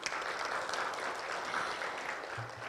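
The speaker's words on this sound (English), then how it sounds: "Please give a round of applause." A large audience applauds steadily throughout, a dense continuous patter of clapping at a conference session on maternal and child mental health, with no voices over it.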